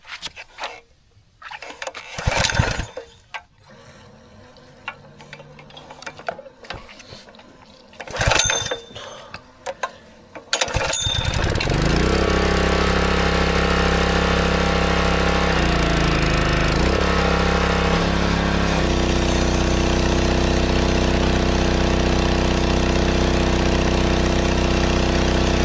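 A small gas engine sputters through several failed pull-starts with choke and throttle set, then catches and runs at a steady loud rattling idle close by.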